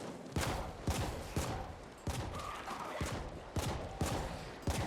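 Gunfire in the video game The Ascent: a steady stream of loud shots punctuated by heavy blasts roughly every half second, unbroken and close.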